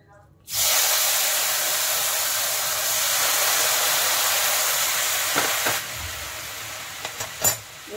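Hot water is poured into roasted semolina in a pan and sets off a loud, steady hiss that sizzles on for several seconds, then fades, with a few small clinks near the end.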